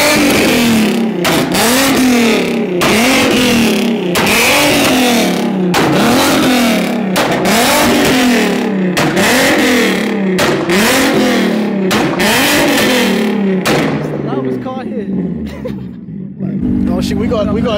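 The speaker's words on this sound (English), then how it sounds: "It's the loudest car here" A very loud car at a supercar and hypercar gathering revs its engine hard in repeated surging bursts, close and dominant throughout, before dropping back to a rumbling idle.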